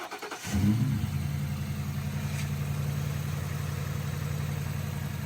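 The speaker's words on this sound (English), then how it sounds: "Record the engine." A Ford Crown Victoria engine with a newly replaced belt, idler pulley and tensioner starts with a brief rev, then settles into a smooth, steady idle, heard close.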